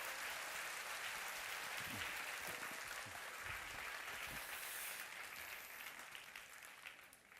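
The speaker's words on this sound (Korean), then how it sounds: "여러분 뜨거운 박수로 맞아주시기 바랍니다" A church congregation applauds to welcome a pastor as guest speaker: a faint, dense patter of clapping from a distance that holds steady and then slowly tapers off.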